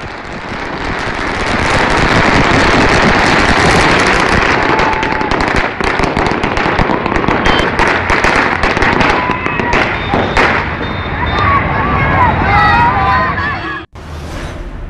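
Celebratory fireworks set off at a crossroads, a dense, continuous crackle of firecrackers and bursts, loud and close for the whole stretch, with a brief gap near the end before it resumes.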